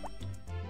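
Soft plopping drips of water poured from a watering can onto crops in the farming game Harvest Moon: Back to Nature, a few quiet splashes over light game music.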